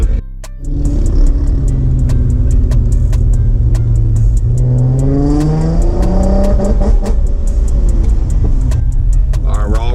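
Several cars, including a G35, rev and accelerate away at a Las Vegas car meet, loud nearby engines rising in pitch as they pull off, with people talking and clicking sounds mixed in.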